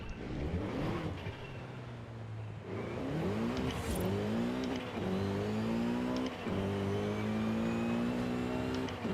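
A race car engine in Forza Horizon 5, either a Mazda or a Peugeot, revs and climbs through the gears, its pitch rising in repeated sweeps with brief drops at each shift, loud and steady throughout.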